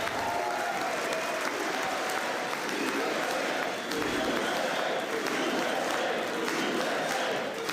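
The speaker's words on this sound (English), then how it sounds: "10 more minutes of applause, everybody." Sustained applause fills a large chamber during a State of the Union address, a dense, steady wash of many hands clapping with crowd noise and faint cheering, heard somewhat distant and unbroken.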